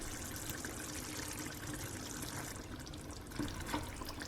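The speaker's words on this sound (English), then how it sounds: "The gravy's thickened up a bit, so we'll just add a bit of water." Water poured into a pan of simmering eggplant curry gravy gives a faint, steady splashing trickle with a soft bubbling hiss and a few small clinks, quiet and close with no talking.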